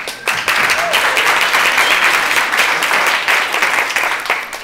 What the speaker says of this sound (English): I think they deserve a big clap.